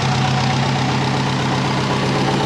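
A twin turbo Subaru Forester engine idles steadily, a dense even rumble with a low droning hum, close and loud, continuous with no talking.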